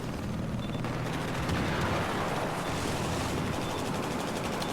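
Dense, continuous gunfire roars through a competitive video game match during a bomb-site fight, a loud unbroken wash of shots and blasts with no voices.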